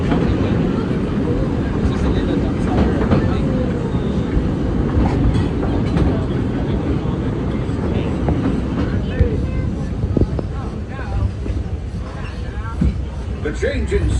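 A Big Thunder Mountain mine train at a theme park rattles and rumbles steadily throughout, a dense, continuous clatter of the ride cars with brief louder knocks near the end.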